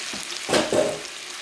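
Day-old rice frying in about two tablespoons of oil on a skillet, a soft sizzle with two brief scraping stirs close by, no talk.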